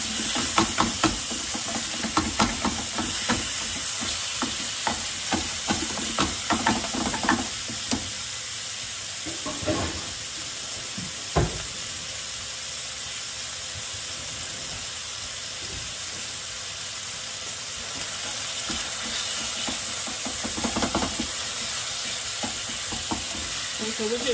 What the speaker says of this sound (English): So we're just browning the ground beef.